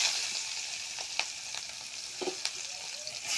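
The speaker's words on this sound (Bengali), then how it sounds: "এখন এগুলো ভালোভাবে ভেজে নিই।" Green chillies and onion frying in oil in a wok, a fairly quiet steady sizzle with a few soft scrapes and clicks of stirring, no talking.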